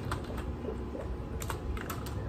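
Fast typing on a computer keyboard while working in Photoshop, a close, steady run of light clicking keystrokes with no voices.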